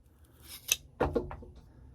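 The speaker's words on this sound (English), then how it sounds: "Should have plenty of hose. So we're just gonna cut it off." An air conditioning hose on a Country Coach Intrigue motorhome dashboard being cut off, heard as a couple of close, crisp snipping crunches in quick succession in a quiet setting.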